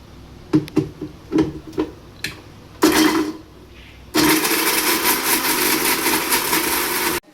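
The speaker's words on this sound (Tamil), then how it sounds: "தேங்காய் போட்டு அரைச்சிக்கலாம்" A kitchen mixer grinder grinds plain coconut for an okra curry: several short pulsed bursts and knocks, then a loud, continuous whirring run for about three seconds before it cuts off.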